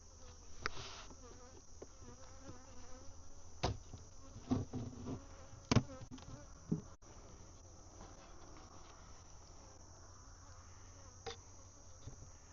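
Bees buzz steadily around a small hive being taken down, a continuous close insect drone with a few brief louder passes and soft knocks scattered through it.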